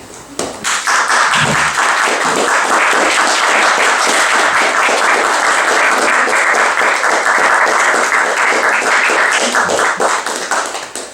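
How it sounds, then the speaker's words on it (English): Dense, steady audience applause at a live class session, rising sharply and holding loud and full for about ten seconds before tapering slightly at the end, with no talking over it. "I want to give a round of applause to Erin and Craig."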